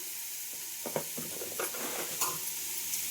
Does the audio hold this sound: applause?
no